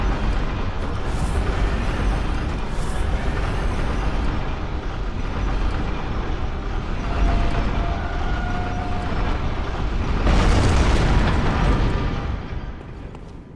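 A church cannon in the video game Bloodborne fires heavy booming blasts over a continuous loud rumble, and the strongest burst of explosion noise comes near the end.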